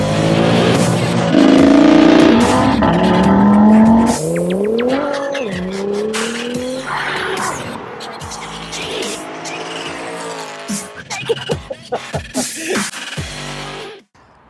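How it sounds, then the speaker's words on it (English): A 2017 Porsche 911 Carrera 4S, a 991.2 with a 3.0 twin-turbo engine and PDK gearbox, revs and accelerates hard with a rising, shifting engine note, brief tyre squeal and steady road roar throughout. "I've got a 2017 Porsche 911 Carrera 4S"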